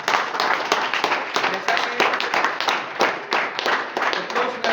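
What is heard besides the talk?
applause for Ram Munda at an award ceremony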